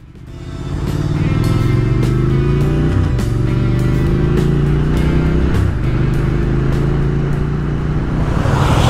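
A truck drives along steadily, its engine a loud, continuous low drone with gear-shift dips around the middle, heard close up with wind buffeting and no talking.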